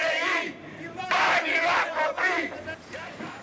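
Protesters in a Bucharest street shout through megaphones, their loud, amplified chanting voices rising and falling in several bursts over a few seconds.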